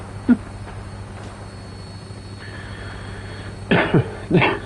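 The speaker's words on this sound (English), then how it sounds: "Bit of a cough there." A person coughs, one short cough followed a few seconds later by two harsher coughs, near and fairly loud over a low steady background hum.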